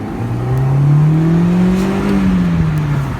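A 2015 MINI Cooper Roadster's four-cylinder engine revs up and settles back, its exhaust note a loud, close, smooth rising and falling hum with no talking over it.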